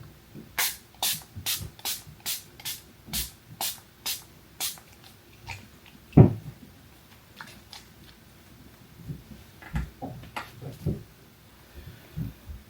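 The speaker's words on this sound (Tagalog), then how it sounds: "spray lang natin para ma-set. Setting spray." Setting spray misted over a finished face of makeup, heard as a run of about nine short, evenly paced hissing bursts near the mic, with softer handling noises afterward and no talking.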